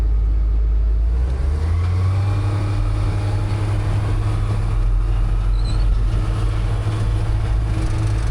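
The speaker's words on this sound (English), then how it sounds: "but there's a truck coming, I better not." A truck passes along a road near a junkyard, a heavy low rumble rising and swelling steadily while heard from inside an idling vehicle, with no talking.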